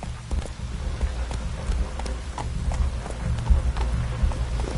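Roach the horse gallops through rain in The Witcher 3, with rapid clip-clop hoofbeats over a steady hiss of rainfall, close and continuous throughout.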